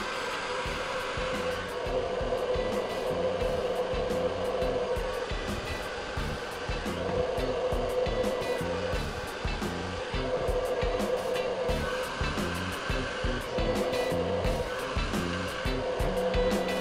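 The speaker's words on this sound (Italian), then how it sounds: "asciugo i capelli un po' col diffusore perché voglio togliere l'acqua in eccesso" A hair dryer fitted with a diffuser runs continuously while drying hair, a steady whooshing roar with slight shifts in pitch and airflow as it moves around the head.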